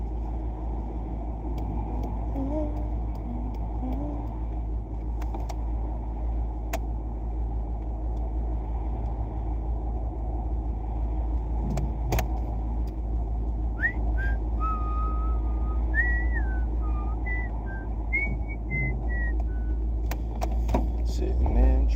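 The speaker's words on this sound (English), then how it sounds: "Sitting in traffic." Steady low road-traffic rumble from idling and creeping cars in a jam fills the scene, with occasional louder passing engine swells and faint distant tonal sounds.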